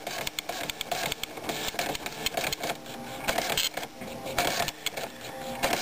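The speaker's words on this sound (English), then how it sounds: "they're mainly used for printing multi-part forms because the dot matrix printer is an impact printer" A dot matrix impact printer fitted with a color kit rattles out a dense, rapid buzzing chatter of print-head strikes in steady bursts, loud and close throughout.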